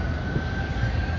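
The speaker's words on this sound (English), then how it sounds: "you guys hear the sirens?" A siren sounds as a steady, continuous tone over a low rumbling background in downtown San Jose during Cinco de Mayo, moderately loud throughout.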